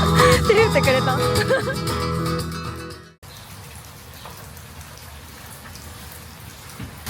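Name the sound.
rain falling in Cebu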